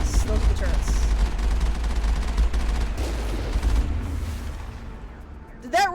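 Turret rocket fire in the video game Mass Effect: a dense, continuous barrage of loud booming blasts and rumbling impacts that fades near the end, followed by a brief voice.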